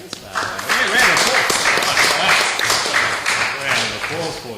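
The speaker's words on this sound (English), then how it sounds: "Round of applause for you, Beth." Applause for a presenter at a cricket awards show: a room of hands claps briskly and continuously, fairly loud and close, with voices mixed in.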